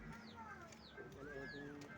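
Pigeons on a house rooftop coo softly in short, repeated calls, several overlapping, with light background activity and a faint murmur of people nearby.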